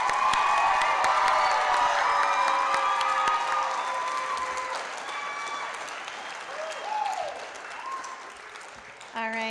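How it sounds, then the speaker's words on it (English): A graduation ceremony crowd applauds the graduates, loud sustained clapping mixed with a few cheers that gradually thins toward the end, with a voice briefly audible at the close. "So let's give them one more round of applause."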